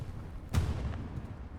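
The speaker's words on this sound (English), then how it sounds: "Heard an explosion somewhere." A single muffled explosion booms in the distance during a Hell Let Loose tournament match, a short broadband burst that fades into the steady rumble of battlefield ambience.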